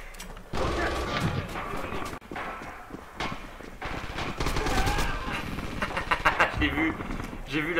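Battlefield gunfire in Red Orchestra 2, with repeated sharp shots and bursts, some close and loud, others scattered, mixed with voices and battle noise.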